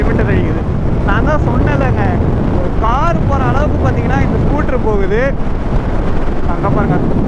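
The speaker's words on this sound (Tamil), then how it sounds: "ஏங்க இவ்வளோ காத்தடிக்குதுங்க." Strong wind buffets and roars loudly and continuously while riding a Yamaha Aerox 155 scooter at speed, with someone talking throughout over the rushing air.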